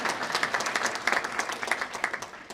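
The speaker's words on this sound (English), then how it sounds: "I'm waiting for a clap." Applause from an audience at a Correctional Service Week event, a steady wash of many hands clapping together, fairly loud and continuous, with no speech over it.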